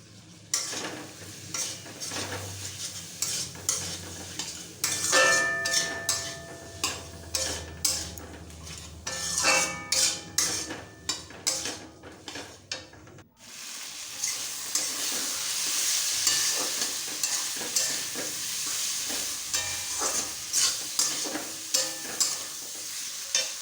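Red chili powder, turmeric and ginger paste fried and stirred in a pan, a steady sizzle broken by repeated rhythmic scrapes of a spatula, the hiss swelling louder in the second half.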